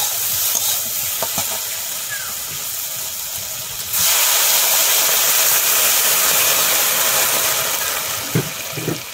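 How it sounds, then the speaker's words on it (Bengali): Water poured onto fried okra in a hot pan for a Bengali bhindi mustard-paste dish: a low background sizzle bursts into a loud, steady hiss and steam that continues close by. "ভেন্ডিগুলো ভাজা ভাজা হয়ে গেছে, এখন জল দিয়ে দেবো।"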